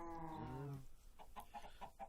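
Blocky chickens clucking in Minecraft, a run of short, evenly spaced clucks after a brief harmonic squawk, moderately loud against a quiet game background.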